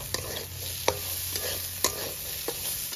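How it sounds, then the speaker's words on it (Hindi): A spoon stirs chana chaat with lemon juice in a pan, giving steady scraping with several sharp taps against the metal. A light sizzle runs underneath throughout. "तो बस अब इन सभी को एक बार अच्छे से मिला लेना है"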